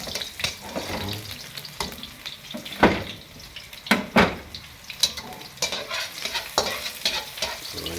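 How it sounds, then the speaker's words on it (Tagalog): Chopped onion, garlic and chili sautéing in a pan for sisig, with a steady sizzle under repeated scraping and stirring clatter from a utensil; close and moderately loud, no talking. "gigisahin muna natin yung mga ricado"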